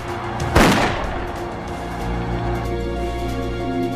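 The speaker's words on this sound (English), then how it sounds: "A rapid rattle of fire from our rifles" Rifle fire in a battle reenactment: a single loud sharp report early on, then a rumbling tail and steady background noise.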